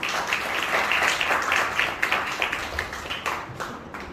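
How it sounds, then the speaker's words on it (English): An audience at a school farewell for interns claps loudly and steadily, a dense crowd applause that thins out slightly toward the end. "A big round of applause for our students."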